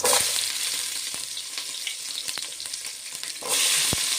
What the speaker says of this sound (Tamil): வெங்காயம் போட்டுக்கலாம். வெங்காயம் கொஞ்சம் நல்லா வேகணும்.